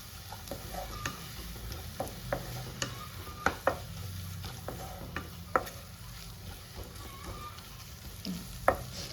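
Spices and black pepper powder roast in hot oil with a faint continuous sizzle, while a utensil stirs and taps the pan in scattered light clicks, fairly quiet and without voices.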